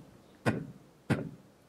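A human voice imitates a bass kick drum: two short, punchy mouth-made thumps about half a second apart, close but fairly quiet, with no other sounds.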